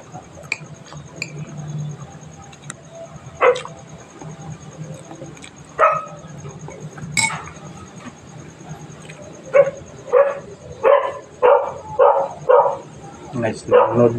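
A dog barks in a quick run of sharp, close barks toward the end, with scattered knocks and household noise earlier and people talking nearby.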